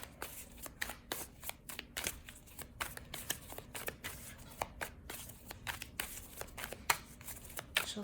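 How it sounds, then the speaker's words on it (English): Tarot cards being shuffled by hand, a quiet, close run of rapid riffling bursts and soft flicks repeating in an irregular rhythm throughout, with no talking. "we're just going to shuffle the cards a million times"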